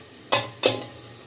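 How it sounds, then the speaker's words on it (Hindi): Onion frying in a pan, a soft steady sizzle at close range broken by two sharp scraping stirs of a utensil against the pan in quick succession. "और यहाँ पर प्याज भुन रही है"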